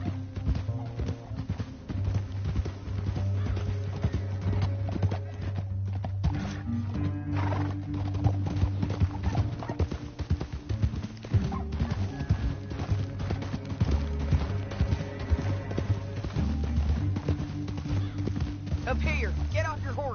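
Horses gallop and clip-clop steadily with occasional neighs in Red Dead Redemption 2, a Western video game set in the 1899 American frontier, hooves pounding throughout under a music score and game dialogue.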